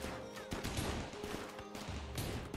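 Dense rapid gunfire in a RimWorld colony battle, overlapping shots crackling continuously at moderate volume with a steady mechanical drone beneath.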